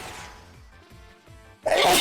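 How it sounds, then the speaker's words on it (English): A single loud human sneeze bursts out abruptly near the end, after a quiet stretch with faint low background sound. "Because that makes me sneeze for some reason."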